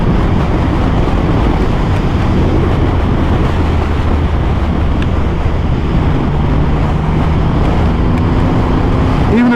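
Triumph Rocket 3 R motorcycle engine, a 2022 model, rumbling steadily while being ridden in fifth gear, a continuous low drone with wind rush and a rising tone near the end.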